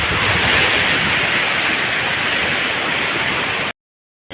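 Continuous broadband roar of waves breaking on a Ratnagiri beach in Maharashtra, mixed with wind buffeting the microphone, steady and loud before cutting off abruptly.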